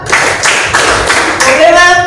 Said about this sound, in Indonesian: Oke, tepuk 1. Tepuk 2. Tepuk 3. Tepuk 4.